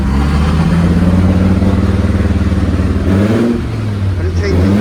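A turbocharged VR5-engined MR2 running on an Ignitron ECU idles and revs steadily up close, with a deep pulsing drone throughout and a pitch change near the end, while people talk over it.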